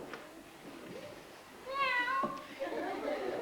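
A voice imitates a cat, giving one drawn-out, nasal meow between quieter bits of background sound.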